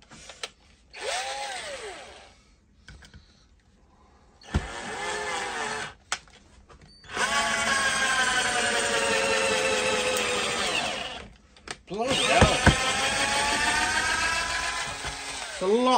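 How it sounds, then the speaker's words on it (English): Cordless drill running on a Makita battery bores through a knot in wood, in several bursts of high-pitched whining motor that labors and shifts pitch, separated by short pauses; loud and close. "I'll have a bit of a crack through a knot."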